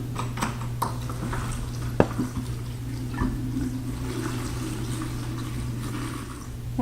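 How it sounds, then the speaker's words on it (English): Water drains out of a groundwater model tank through a fully unscrewed valve, a steady trickling gurgle with small knocks and clinks, close by and moderately loud. "it's easier to unscrew the valve completely so that the water drains faster"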